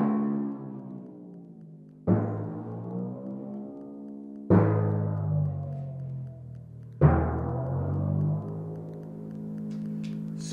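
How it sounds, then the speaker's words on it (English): Pedal glissandos on a tuned percussion drum, struck three times and each note sliding in pitch as it rings and decays, close and clear with no talking. "glissandos, which means we slide between two different notes. And we do this using the pedal."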